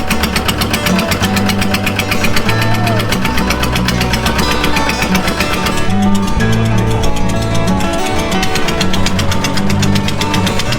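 A passenger boat's engine knocks and chugs loudly and steadily throughout a short river crossing near Kolkata, a dense rhythmic mechanical drone heard close up with no voices over it.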